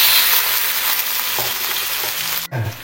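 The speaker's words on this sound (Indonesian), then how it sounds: "Terus sekarang kita akan tumis terlebih dahulu untuk bumbu nyakarnya" Spice paste for chicken feet sautéing in a pan, a steady dense sizzle with faint stirring scrapes throughout, briefly dipping near the end before resuming.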